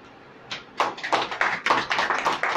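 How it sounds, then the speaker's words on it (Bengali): Clapping at a wedding garland ceremony, a few people giving short uneven bursts of claps that start sparse and build into a steady patter nearby. "স্ত্রীকে মালা দিয়ে বরণ করবে, আমরা হাততালি দেবো"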